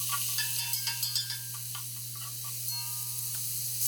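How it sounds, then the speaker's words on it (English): Fresh aromatics saute in avocado oil over medium heat in a braiser, giving a soft, quiet sizzle broken by a few light utensil taps and scrapes, with a low steady hum underneath. "hit it with some avocado oil, medium heat, and let's saute down our fresh aromatics"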